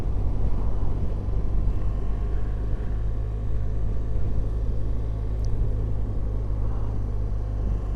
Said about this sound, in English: I'm getting a bit fed up with this traffic now.